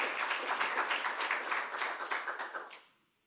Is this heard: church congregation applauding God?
yes